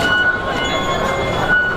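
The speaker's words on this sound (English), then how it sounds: "We are taking the subway on our way to Temple Street Night Market." A Hong Kong subway train at rush hour rumbles along steadily, with a loud, dense roar of wheels and carriage noise and faint high squeals.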